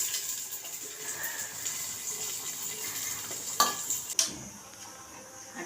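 Cinnamon and cloves fry in a generous amount of hot oil for mutton biryani, a steady close sizzle with a couple of sharp metallic knocks from a utensil against the pot near the end.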